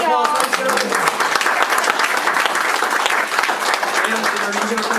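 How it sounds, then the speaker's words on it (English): Applause from the audience at a school board meeting, a steady dense patter of many hands that fills the whole stretch, with voices talking over it at the start and again near the end. "Give him another round of applause"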